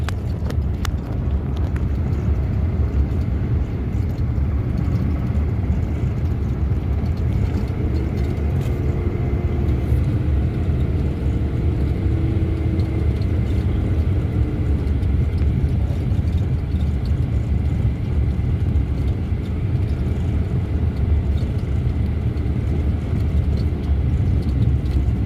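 A car drives along a road beside a canal in Delhi, giving a steady, unbroken low rumble of engine and road noise throughout, with no voices.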